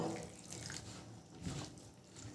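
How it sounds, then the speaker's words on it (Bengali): Water is added to a flour batter with raw potato for a breakfast recipe: a faint, brief pouring and splashing sound close by, with no talking. "এবার এর মধ্যে দিয়ে দেব জল"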